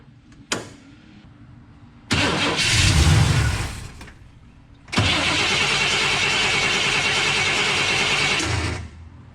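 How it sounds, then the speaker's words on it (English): A 1966 Chevy Nova 327 V8 cranks and briefly catches, then cranks again and settles into a loud, steady running roar close by before cutting off. "let's see if this thing will run, and if it does run, how well will it run?"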